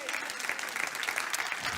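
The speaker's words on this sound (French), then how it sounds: "Une vraie acclamation pour le roi des rois." Congregation in a church applauding and cheering for the King of Kings, a dense, steady wash of clapping with voices mixed in, loud and close throughout.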